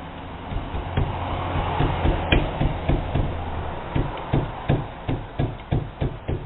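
Bolts being loosened on the brakes of a 2001 Subaru Legacy, with a run of sharp metallic clicks and knocks that speed up into a steady ticking rhythm, close and fairly loud, no speech.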